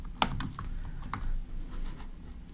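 Keys tapping on a computer keyboard during coding, a short run of several close, distinct clicks at an uneven rhythm, with one sharper keystroke near the start and no voices.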